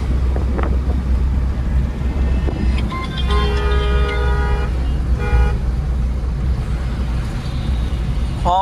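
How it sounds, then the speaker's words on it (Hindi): A car horn honks on a highway during a driving lesson: a couple of short toots heard over steady wind and road roar from inside the moving car. "horn horn"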